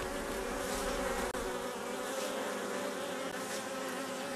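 Honey bees swarm at the hive during dandelion bloom, their dense, even buzz droning on without pause, close and constant.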